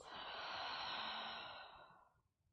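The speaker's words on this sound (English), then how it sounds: "Deep breath out." A single long, deep exhale during a yoga breathing exercise, a soft breathy rush that stays steady for about a second and a half, then fades into quiet. No voice accompanies it.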